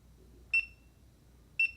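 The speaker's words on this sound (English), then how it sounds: "And now the alarm goes off because it's out of range." A phone-linked tracker sounds its out-of-range alarm as two short, high electronic beeps about a second apart, crisp and close against a quiet background.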